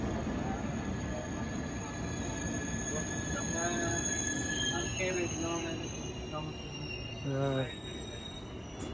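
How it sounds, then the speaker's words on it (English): A Swiss passenger train pulls into a station, its wheels squealing with high, ringing tones over a steady rumble of rolling cars. Voices talk faintly in the background. "These trains don't play around."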